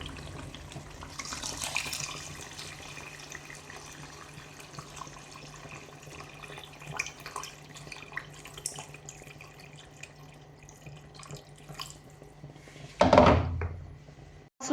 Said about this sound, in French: Là, on va mettre de l'eau pour mettre les légumes.